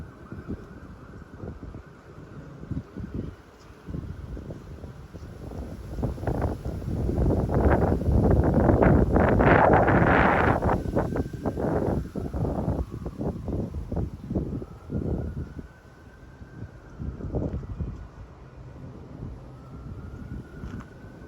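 Strong gusting wind buffets a microphone outdoors, a roaring rumble that builds to a loud peak midway then eases into uneven bursts, with no voices.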